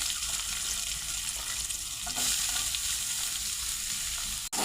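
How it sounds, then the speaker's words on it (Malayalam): Chopped onions sizzle and fry in a pan, a steady close hiss that continues throughout with faint stirring. "ഇനി സവാള കൊത്തി അരിഞ്ഞതിട്ട് കൊടുക്കാം."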